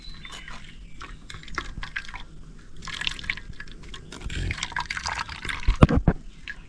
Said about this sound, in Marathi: गालणी घ्यायची आणि गालणीन हे गाळायचा आहे रस